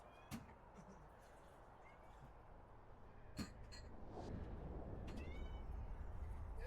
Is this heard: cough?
no